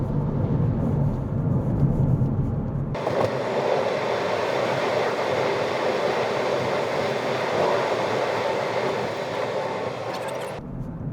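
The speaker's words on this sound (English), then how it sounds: "Whoa, train." A train rushes past close by for about eight seconds, a loud broad roar and rumble that rises abruptly and cuts off, heard from a car on a road near Leeds.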